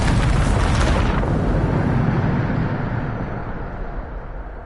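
A Bombarda blasting spell in Hogwarts Legacy detonates with a loud, broad explosive boom that rolls on and slowly fades into a rumbling decay.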